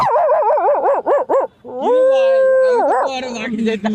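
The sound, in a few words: person imitating a dog barking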